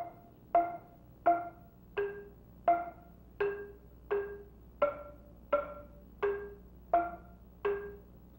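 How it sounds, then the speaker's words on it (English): East African xylophone playing the twelve-note second part: clear wooden struck notes in a steady, evenly spaced sequence, each bright attack decaying quickly, heard alone and fairly close. "The 12 notes of the second part sound like this"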